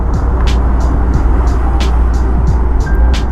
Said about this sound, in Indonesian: Ini makin sore di jalur lintas Sumatera ini makin banyak truk ya teman-teman.